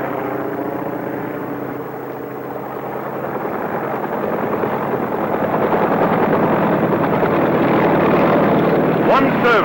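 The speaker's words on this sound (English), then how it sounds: "Helicopters must get in quickly and get out again before that hour is up." A helicopter flies with a steady, loud rotor and engine drone that builds gradually and stays close throughout, with a narrator speaking over it.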